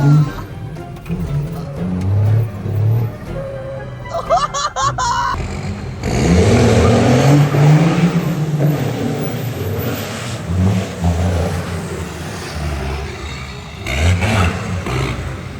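A diesel pickup truck's engine revs hard during a drift, loud surging and falling engine roar, with a brief sharp rattle early on, then sustained acceleration, with some exclamations over it.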